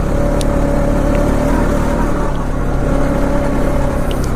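A 2020 Honda Rancher 4x4 ATV engine winds up under way in fifth gear, making a loud, steady mechanical drone with a constant whine that holds throughout.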